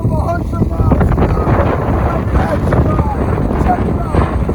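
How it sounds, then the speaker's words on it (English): Strong wind gusts tear across an exposed coastline beside an abandoned military base during a wind storm, a loud, continuous roar buffeting the microphone throughout. "It's really windy."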